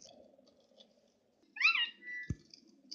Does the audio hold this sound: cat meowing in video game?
yes